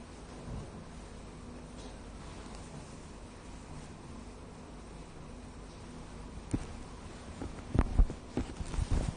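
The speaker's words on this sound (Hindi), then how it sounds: "रुड़की में लगातार पिछले 36 घंटों से बारिश हो रही है।" Steady heavy rain in Roorkee after a day and a half of downpour, a constant hiss with low rumbles of thunder building and several sharp, close cracks near the end.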